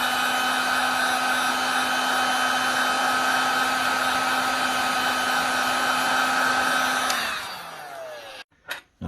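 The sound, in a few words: heat gun warming phone back cover to remove camera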